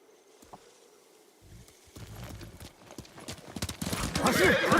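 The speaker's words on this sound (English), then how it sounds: "That's me walking with a horse. That's the horse moving." Hooves clip-clop on the ground as a horse walks in a video game, irregular steps that grow louder and busier toward the end, with someone talking over them.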